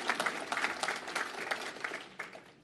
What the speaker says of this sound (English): Give him a big round of applause and welcome him